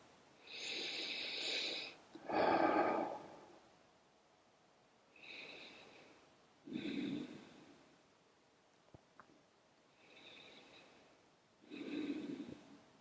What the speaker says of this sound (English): Deep inhales, slow, full exhales.